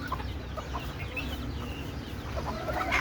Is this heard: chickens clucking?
yes